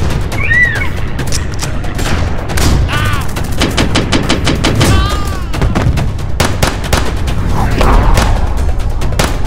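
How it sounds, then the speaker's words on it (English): Dense battle sound effects for a GI Joe Classified action scene, loud continuous gunfire volleys layered with booming artillery blasts and a few whistling shell sounds throughout. "Time for a good old-fashioned gunfight! Not to worry, fellas. Artillery has arrived!"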